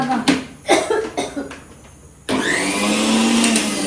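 A small electric mixer grinder grinds rice in a home kitchen. After a few coughs and chuckles, the motor switches on abruptly and settles into a loud, steady whine that continues to the end.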